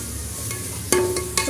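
Spices, coriander and mint sizzle softly in a hot pan for biryani dalcha while a utensil scrapes and stirs them in a couple of brief strokes.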